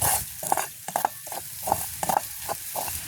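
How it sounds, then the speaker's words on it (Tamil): Onion, garlic and pepper sauté in a pan, with a low sizzle and repeated scraping stirs in an uneven rhythm, close and moderately loud. "உங்களுக்கு இப்போ வெங்காயம் உள்ளி மிளகு எல்லாம் நல்லா வதங்கிடுது"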